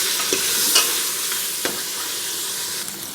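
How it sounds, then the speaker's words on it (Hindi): Mutton fries with ginger garlic paste in a pan, a close, continuous sizzle broken by a few spoon stirs and scrapes, with no voices over it. "और इसके साथ भी इसको कुछ देर के लिए फ्राई कर लेंगे।"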